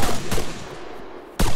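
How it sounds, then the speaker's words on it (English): Gunfire in Arma 3 during a zombie sandbox mod, loud close rifle shots in two sharp bursts with a quieter gap between them. "I'm just riddling them with bullets"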